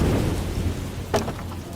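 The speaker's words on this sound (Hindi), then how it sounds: "बारिश लगातार पूरे 20 घंटों तक बरसती रही।" Heavy rain and thunder at sea while stranded on a raft: a steady loud hiss of rainfall throughout, with a brief thunder crack rising out of it near the end.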